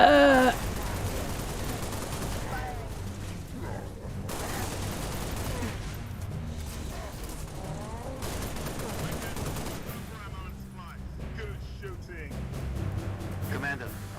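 Rapid gunfire bursts and fusillades in a shooting video game, loud volleys coming and going amid game sounds, with someone talking over the action.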